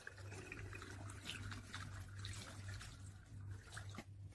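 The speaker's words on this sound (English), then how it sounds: "you can pour the wine into the bottle right away" Grape wine poured gently from a container into a bottle while making homemade grape wine cream soda, a steady soft liquid trickle and fill running throughout with a low background hum.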